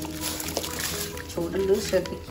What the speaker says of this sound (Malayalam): ഞാനിതാ അരി ഇട്ട് കൊടുക്കണം